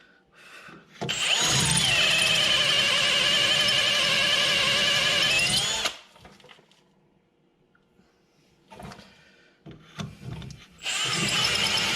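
A power drill drilling metal brake parts on a 1988 Camaro Z28 whines loudly and steadily for several seconds, then stops; after some quiet clunks it starts up again at full speed.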